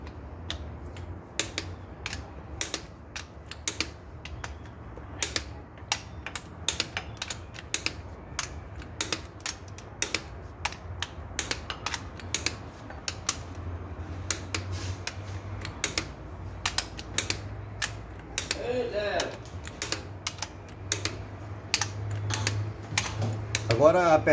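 Clicks and ratcheting from a torque wrench tightening cylinder head bolts to 90 N on a VW engine during a piston ring and bearing rebuild, sounding as rapid, irregular close-up ticks over a low steady hum.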